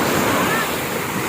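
Ocean waves washing onto the beach at Fortune Island, a brief, steady roar of surf mixed with wind buffeting the microphone, fairly loud and constant throughout.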